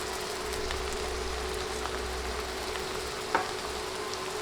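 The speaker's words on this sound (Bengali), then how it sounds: "নেড়ে মশলাগুলো ভেজে নিব" Ground spices such as coriander and cumin powder are stirred and fried in a pan for a chicken kosha curry, giving a steady low sizzle with a soft scrape near the end.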